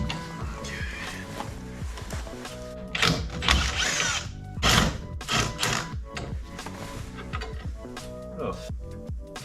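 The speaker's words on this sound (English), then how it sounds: "Now all I have to do is take off this nut right there" Power tool working a nut loose on a 1971 Volkswagen Bus, close whirring and rattling bursts of an impact-style driver with mechanical knocks, fairly loud over a low workshop background.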